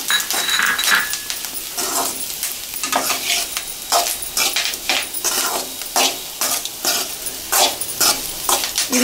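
Coconut powder and chili being stirred into potatoes frying in a pan for aloo fry, with repeated scraping strokes and clinks of a spoon against the pan over a steady close sizzle.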